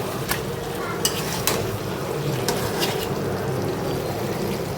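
Meat, halfway through its slow frying for a Bangladeshi home-cooked dish, sizzles steadily in a pan while a spoon scrapes and stirs, with a few sharp clinks against the metal.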